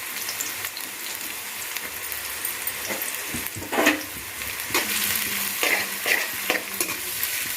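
Onions being fried until brown in a pan for mutton keema semiya kichadi, a steady close sizzle with frequent stirring scrapes and spoon knocks, no talk.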